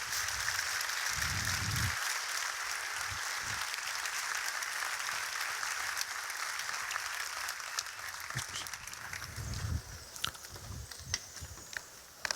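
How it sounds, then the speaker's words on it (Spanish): Crowd applause at a gladiator fight show, a steady, rather distant patter of many hands that thins out toward the end, with a few low thuds and bits of background noise. "damos un aplauso"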